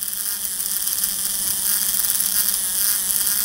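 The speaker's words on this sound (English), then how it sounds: "that it's that axle gear that's slipping" The motor of a broken Tomy toy robot spins with a slipping axle gear, giving a steady high-pitched whir with a fine rapid buzz, close and continuous.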